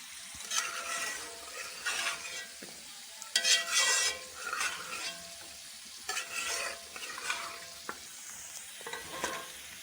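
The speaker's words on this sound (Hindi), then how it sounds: "गोश्त को 10 मिनट भूनने के बाद अब इसमें टमाटर डाल देंगे।" Mutton that has been browned for ten minutes sizzles loudly in a pan as two tomatoes are added. Bursts of frying come in waves, with stirring and the scrape of a utensil against the pan, and no one speaks.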